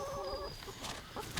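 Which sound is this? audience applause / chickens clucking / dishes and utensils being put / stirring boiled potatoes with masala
chickens clucking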